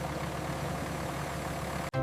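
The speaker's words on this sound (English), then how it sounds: "V is for vacuum truck." A vacuum truck's engine idles with a steady mid-to-low rumble for about two seconds before cutting off abruptly.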